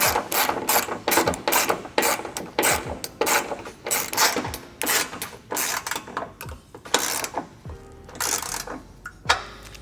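A wrench ratchets in quick bursts of rapid clicking while tightening bolts on an MK7 GTI street shield under the car, with short pauses between runs and a few metallic clanks, close and alone.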